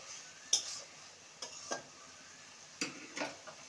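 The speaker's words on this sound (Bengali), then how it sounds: "একটু সবজিগুলোকে ঘেঁটে দেব।" Cooked vegetables for a Bengali shak chochori, a leafy greens dish, stirred in a pan in a few separate scraping strokes with short pauses between them, close and fairly quiet over a faint sizzle.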